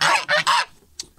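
A domestic goose honks three loud, harsh times in quick succession at close range, followed by a short, fainter squawk.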